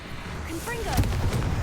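A Confringo fire-blast spell explodes in Hogwarts Legacy: a short rumbling blast with crackling burst edges lands about midway and is layered over whooshing effects and game voices.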